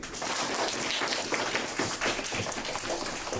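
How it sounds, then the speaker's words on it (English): A roomful of elementary school children clap their hands at a career day, a dense, steady patter of many claps filling the whole stretch at moderate loudness. "Simon says, clap your hands."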